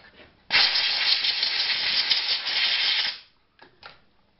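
A thread is cut with a tap on a milling machine, producing a close, sustained hissing whir for about two and a half seconds, followed by a couple of brief, fainter bursts.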